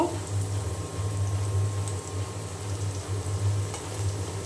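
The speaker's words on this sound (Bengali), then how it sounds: "এখানে আমি পেঁয়াজ আর কাঁচামরিচ দিয়ে দিয়েছি চিংড়ি মাছ রান্না করব" Onions and green chilies fry in a pan for shrimp curry, giving a steady low sizzle and bubbling hiss that stays even and close throughout with no talk.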